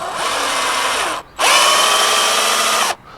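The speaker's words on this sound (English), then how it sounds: "drill a small hole through the rubber" A power drill bores a small hole through a rubber seal for routing roof light wiring, in two loud sustained bursts with a brief pause between, the motor pitch steady then dropping as it finishes.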